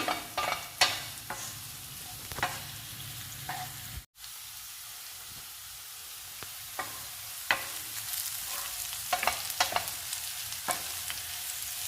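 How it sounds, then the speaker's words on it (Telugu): Beetroot frying in a pan gives off a continuous sizzle, with repeated close scraping and clinking strokes of a spatula as it is stirred and a brief silent gap partway through. "బీట్రూట్ని బాగా ఫ్రై చేసుకోవాలి, లేదంటే పచ్చివాసన వస్తుందండి"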